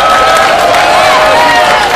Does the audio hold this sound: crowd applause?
yes